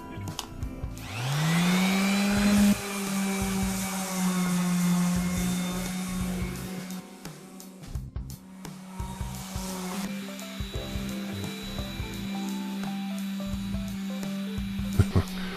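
Power sander working the wood of a speaker kit cabinet, a loud steady whine that spins up and holds for the whole stretch, with brief dips as the tool shifts.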